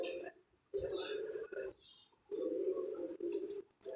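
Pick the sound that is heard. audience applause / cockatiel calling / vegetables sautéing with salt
cockatiel calling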